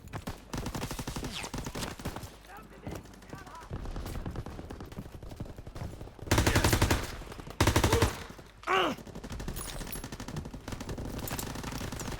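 Rapid machine gun fire rattles in long, loud bursts amid a noisy World War II beach landing battle in Call of Duty: WWII, with shorter volleys and blasts between.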